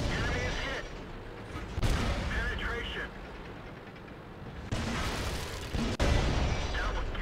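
Light tank main gun firing in the World of Tanks game, several sharp booming shots spaced through the stretch, loud and close, with someone talking over much of the action.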